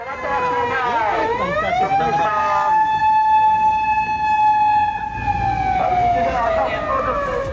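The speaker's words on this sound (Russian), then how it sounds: "даже когда едет скорая помощь, он извиняется за то, что он обгоняет машины" An ambulance siren in Japan wails loudly and steadily nearby, its pitch sweeping and holding over traffic noise.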